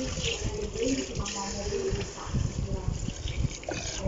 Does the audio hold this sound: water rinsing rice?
yes